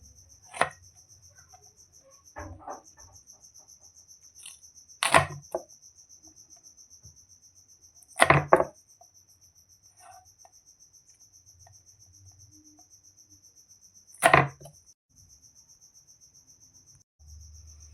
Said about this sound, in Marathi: आता आपण भेंड्या उभ्या चिरून घेणार आहोत.